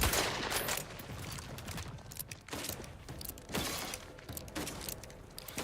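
Video game gunfire in The Outer Worlds 2: dense bursts of rapid shots and sharp mechanical clatter, loud and close, pausing briefly before the firing resumes in bursts.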